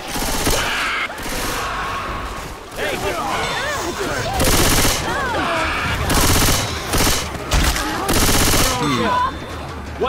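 Automatic gunfire in a Left 4 Dead 2 versus match: dense, loud bursts fire almost nonstop, broken by brief pauses, while players shout over the shooting.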